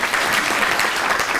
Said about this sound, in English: Can we please give a round of applause to this gentleman?